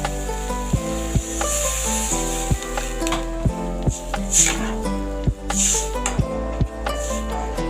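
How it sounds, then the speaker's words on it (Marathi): Water is poured into a sizzling prawn curry in a pan, with brief bursts of hissing spray over continuous frying and occasional spatula knocks, close up, with background music. "आता त्याच्यात पाणी घालायचं."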